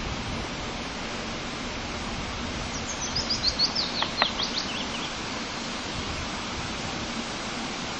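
A few short bird chirps and trills rise briefly over a constant broadband rush of a stream, the calls clustered in the middle, along a railway trackbed in Scotland.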